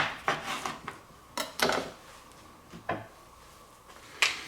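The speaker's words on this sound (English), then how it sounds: "let's squeeze our 2 lemons into it" Two lemons being squeezed with a hand citrus squeezer in a home kitchen, heard as several short, close squelching and clicking bursts spaced irregularly, fairly quiet with no talk.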